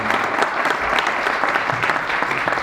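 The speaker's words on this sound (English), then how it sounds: "you should all give yourselves a round of applause for being part of it" A steady round of audience applause at an American High directors panel, a dense wash of many hands clapping at an even level, with no talk over it.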